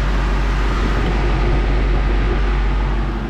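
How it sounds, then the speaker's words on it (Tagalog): A 2015 Ford Mustang engine running, a loud, steady, broadband mechanical drone with a deep low-end rumble that holds constant throughout. "Ang ingay ng makina"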